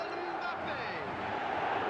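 An eFootball stadium crowd gives a steady, loud roar of cheering that fills the space evenly throughout, with a swelling chant-like hum and no clear breaks.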